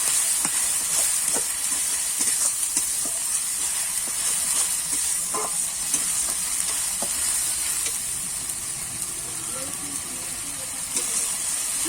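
A ground paste of ginger, cumin, coriander and fresh and dried chillies fries in a pan, giving a steady close sizzle and hiss with light scraping and stirring throughout, no voices.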